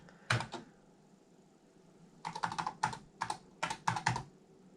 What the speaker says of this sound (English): Now I can type print.